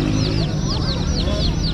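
Young chicks sold by street peddlers in Iran before Nowruz keep up rapid, high chirping and cheeping. The sound is loud and continuous from a crowded group, with voices and street noise mixed in underneath.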